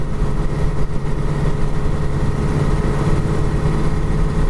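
A 1929 Chevy's engine at road speed around 60, a steady loud low drone with road rumble heard from inside the car, continuous and even with no talking.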